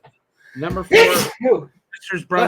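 A single sharp sneeze bursts out in the middle of a studio conversation about movies, with people talking just before and after it.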